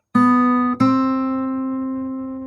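An open second string rings out on a fingerstyle guitar, plucked once, briefly damped and plucked again, then left to sustain and slowly decay, close and clear with no talking.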